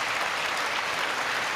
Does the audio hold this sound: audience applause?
yes